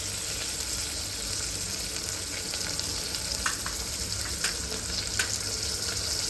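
Vegetables with turmeric and red chilli powder frying in a sambar pan give off a steady, broad sizzle, with a few sharp clicks and scrapes near the end and no voices.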